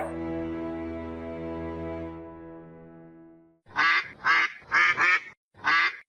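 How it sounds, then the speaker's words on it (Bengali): Cartoon ducks quack five times in a quick, loud, close run, after a sustained tonal note fades out. "আরে আরে আরে কি ব্যাপার আমার হাঁসগুলো এভাবে প্যাক প্যাক কেন করছে"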